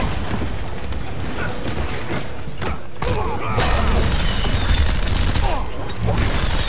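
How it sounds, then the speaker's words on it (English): A Gatling gun fires in the fighting game Injustice: Gods Among Us during a tournament match. It is a loud, dense, continuous rattling barrage with booming impacts, and crowd and commentary noise sit underneath. "Alright, meter burn Gatling gun."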